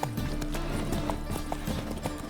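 Clip-clop of the horse Roach's hooves in the video game The Witcher 3, steady and close, with soft game ambience and no talk.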